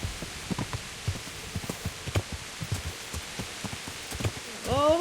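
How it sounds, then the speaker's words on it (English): Steady rainfall patters and drips on surfaces in the game Kingdom Come Deliverance, with soft irregular thumps throughout and a brief rising tonal sweep near the end. "Wow, it is raining heavy."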